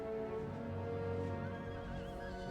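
Cavalry horses neigh and whinny in an Empire: Total War battle, a continuous layered din of several horses with clip-clop beneath, steady and fairly loud throughout, with no voices.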